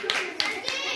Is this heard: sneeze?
no